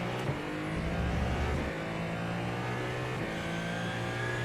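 Ferrari 499P hypercar engine in the iRacing simulator, a sustained mid-pitched drone that rises steadily under throttle, continuous and fairly loud with no voices.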